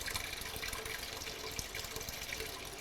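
Cleaning solution runs from the faucet of a QuikTap tabletop drink dispenser into a bucket, a steady close splashing stream of liquid filling the bucket, continuous with no talking.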